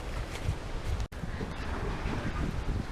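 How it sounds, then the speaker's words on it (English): Strong wind roars steadily against the microphone outdoors by farm barns, buffeting and gusting with a brief dropout in the middle. "It's extra creepy because it's really windy today."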